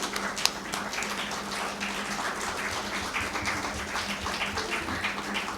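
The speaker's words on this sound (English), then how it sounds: "So a big round of applause to the events team." An audience at an event presenting Sanjay Garg's saree collection applauds for the events team, a dense, steady patter of many hands clapping at moderate volume throughout, with no talking over it.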